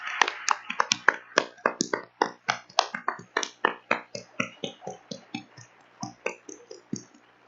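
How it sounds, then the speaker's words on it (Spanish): Audience clapping at a literary event honoring writer Margo Glantz, a run of sharp, close hand claps in a loose uneven rhythm that thins out toward the end, with no talk over it. "Y empecemos como debe de ser, con otro aplauso para Margot Glantz"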